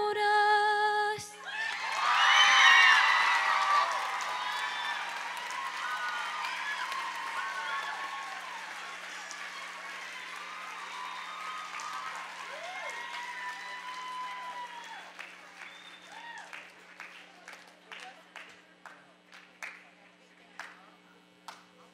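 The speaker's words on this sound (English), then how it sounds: "Let's give her another round of applause." Applause from a middle school talent show audience swells early, then thins into scattered claps and a few whoops, with some voices underneath.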